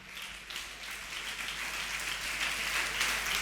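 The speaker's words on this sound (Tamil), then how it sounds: "யோசித்து கைதட்டுங்க." A church congregation at a Tamil Christian sermon claps steadily, a soft, distant, even wash of applause that holds throughout without anyone speaking.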